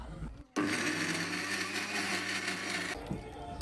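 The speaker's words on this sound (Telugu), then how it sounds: "ఇప్పుడు ఇందులోకి కరివేపాకు వేసుకొని మరోసారి మిక్సీ పట్టుకుందాం." A mixer grinder whirs loudly up close as it grinds curry leaves with spices and salt, starting abruptly and running steadily for a couple of seconds before cutting off.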